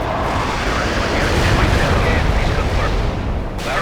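Heavy artillery barrage in World in Conflict, a loud continuous roar of overlapping booms and blasts that fills the whole stretch before tapering off at the end.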